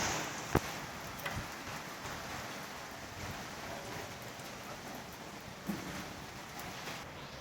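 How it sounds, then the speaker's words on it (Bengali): Heavy rain pours down steadily in a dense hiss, with a couple of sharper knocks standing out near the start and later on. "অনেক বৃষ্টি চলে আসছে"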